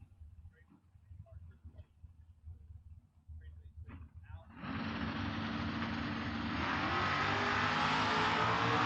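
Drag race cars, a Malibu against a Camaro, launch at a drag strip: low engine rumble and crowd noise under a voice give way abruptly to a loud, sustained full-throttle roar that holds to the end.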